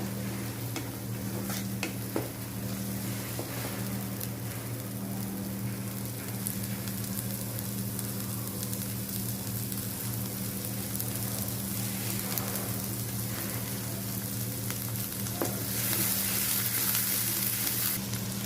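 Hilsa fish head fries in a pan with crushed garlic, a steady close sizzle under a constant low hum, broken by occasional scrapes and knocks of a stirring spoon, with no voices.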